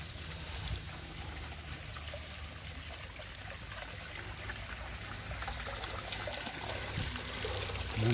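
Garden water fountains at Lampang Railway Station in Thailand, a soft, continuous splashing trickle heard at a moderate distance with no voices.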